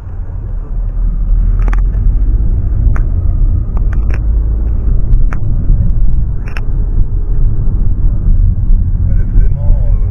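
A VW Golf with a DSG gearbox drives along with a steady low engine and road rumble throughout, a few faint clicks on top, and people talking inside the cabin.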